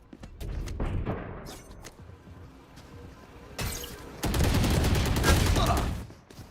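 Sheriff pistol shots in a Valorant pro tournament match, sharp bursts of gunfire in sequence with louder, denser shooting in the second half, mixed with other game noise.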